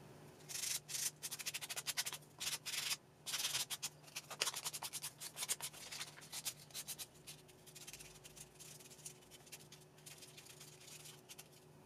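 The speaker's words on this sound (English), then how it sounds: "I'll still have to do a bit of sanding on this to clean it up" Sandpaper rubs back and forth on plywood cut by a 3D printer, quick irregular strokes, close and fairly quiet, with a faint steady hum underneath.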